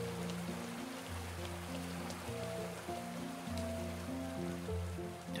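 Steady rushing water from a waterfall in the video game Garden Witch Life, a continuous wash of noise beneath a looping calm musical score, with no talking.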